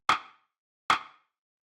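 Short, punchy rim shot sample, the main layer of a layered drum hit, sounding twice about a second apart, each a sharp crack with a brief fading tail and silence between.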